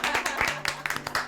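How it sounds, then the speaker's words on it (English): A short burst of clapping from a small group, quick and close, breaks out at a wedding dress reveal, mixed with a voice speaking over it. "Round of applause for Bernard."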